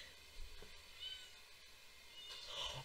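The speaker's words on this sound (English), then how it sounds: "there's another cat!" A cat meows faintly at a distance, a few thin high cries rising out of steady background noise, the clearest one near the end.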